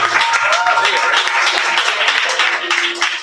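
Audience clapping at an open mic poetry night, a dense, even wash of hands filling the room while a newcomer walks to the microphone, with voices and a few cheers mixed in.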